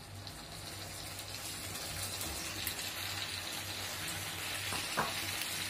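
Fried plantain (dodo) and gizzard stirred together in a pan, a soft continuous sizzle with faint scraping and a small clink near the end, no talking.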